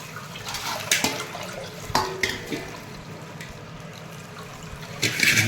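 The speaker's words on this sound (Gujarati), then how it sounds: "આ જુઓ પાણી, જુઓ પાણીની ધાર જુઓ।" A stream of spiced water for pakodi is poured out, splashing and trickling close by in short bursts, with a few sharp clinks between the pours.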